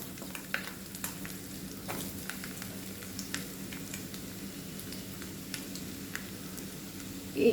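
Peeled ginger sizzles and crackles in hot oil for a white lemon pickle, a steady close frying hiss with scattered pops and a louder burst near the end.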